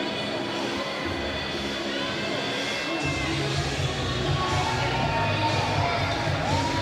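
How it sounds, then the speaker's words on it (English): Boxing venue crowd cheers and applauds as both fighters leave the ring, a steady wash of distant crowd noise that swells and grows fuller partway through, with no clear speech. "the crowd's showing their appreciation as both guys make their way out of the ring"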